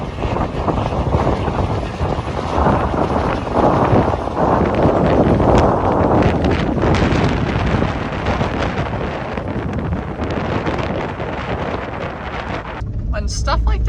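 Strong, steady wind buffets the microphone outdoors during spring farm work, a loud continuous roar throughout.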